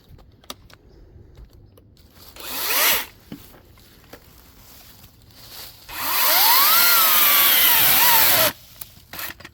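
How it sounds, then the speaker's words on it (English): A DeWalt 60V top-handle 14-inch battery chainsaw whines up briefly, then cuts into wood in a longer sustained buzzing burst, with small clatters and handling noises between. "It's a pretty quick cutting saw."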